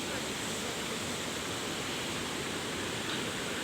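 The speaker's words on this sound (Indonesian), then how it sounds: "seperti kita lihat aliran air mengalir di badan jalan ini" Steady broadband rush of rainwater streaming across a road surface at a flooded truck accident site, continuous and fairly loud with no breaks.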